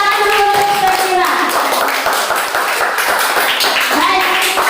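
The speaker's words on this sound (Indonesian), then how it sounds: "Tepuk tangan dulu untuk Sekira" A class claps for a student after an answer, a brisk patter of hands at close range, with a voice speaking over the clapping at the start and again near the end.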